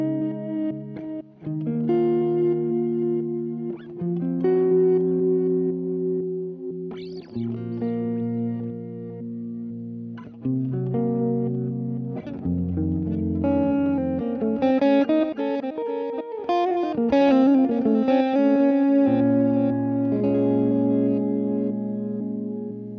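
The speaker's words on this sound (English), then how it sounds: "Reverse echo." Reverse echo effect on a Valeton GP-200 LT guitar multi-effects unit, with played chords and notes swelling backwards into each other in a continuous, loud, close passage with no talking.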